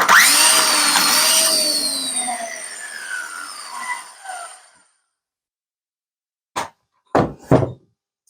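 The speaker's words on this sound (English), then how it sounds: "One of the other tools that I'm going to use this for, my little Ryobi edger P2300." A Ryobi P2300 edger powered by a Ryobi 18V battery whines at high speed, then spins down and falls silent, followed by a few sharp knocks or thumps.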